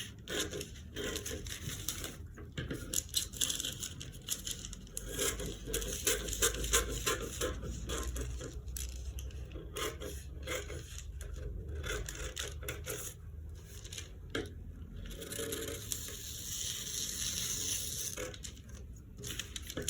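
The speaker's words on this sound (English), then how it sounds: "So now we'll go ahead to cut this piece out" Scissors slice through fabric for a bustier front pattern piece, giving a steady run of close crunching snips and rustles over about twenty seconds, with no talking.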